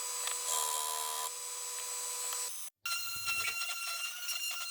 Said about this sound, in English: then back over to the sander to sand everything up now